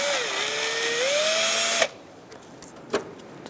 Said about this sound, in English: I'm going to use a Phillips head and a drill